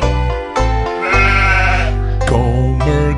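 A goat bleats in long, loud, wavering cries, repeated several times up close within a children's song.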